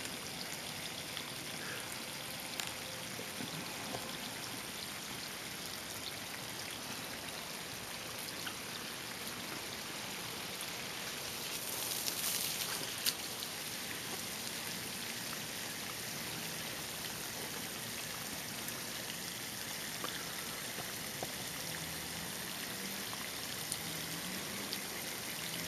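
Water trickles and flows steadily into a crack, a continuous low hiss and babble at close range with no voices throughout.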